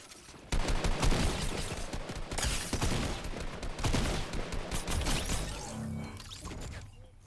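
Rapid gunfire from Fortnite video game fights, dense bursts of shots and crashes crowding together for several seconds, then easing into quieter game sounds; no talk.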